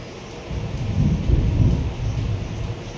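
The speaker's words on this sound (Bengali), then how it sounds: "মেঘ পর্যন্ত ডাকছে ওয়েদার খুব খারাপ" Low, rolling thunder rumbles steadily through bad, stormy weather, swelling in the middle and holding as a broad continuous roar with faint rain hiss, no voices.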